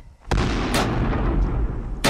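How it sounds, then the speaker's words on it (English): Grenade launcher firing in the video game Chupacabras: Night Hunt, heard as two sharp booming shots with a rumbling explosive tail between them, loud and close with no talk. "Grenade launcher, OP for ammo."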